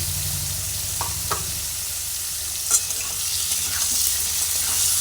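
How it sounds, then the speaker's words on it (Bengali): Potatoes and pumpkin frying with turmeric in a pan, a steady sizzle with occasional scraping stirs and a sharp clink of the utensil midway, no voices. "আলু আর কুমড়ো একসঙ্গে ভেজে নিচ্ছি"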